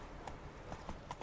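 Horse hooves beat in a quick galloping rhythm in The Witcher 3 video game, faint and fairly soft over a low background bed.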